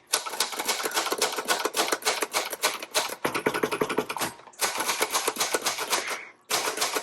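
Rapid, steady clatter of keystrokes on a 1961 Royal Signet manual typewriter, close and crisp, running in brisk bursts with short pauses and a brief gap near the end.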